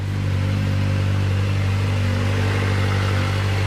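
A Kawasaki ZX-4RR motorcycle idles steadily up close, its engine and exhaust giving a loud, continuous droning hum with no revving and no voices.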